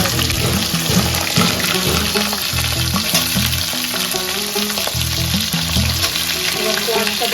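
Mixed vegetables and cauliflower fry in hot oil, with a continuous close sizzle broken by repeated scraping stirs. A soft tune plays low in the background.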